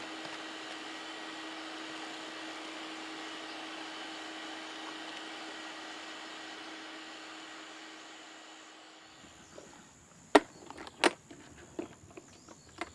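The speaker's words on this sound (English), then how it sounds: "By switching on the motor, the sealing flap is raised." A dust extractor motor hums steadily at close range for about nine seconds, then winds down and stops, followed by a few sharp clicks and knocks in near silence.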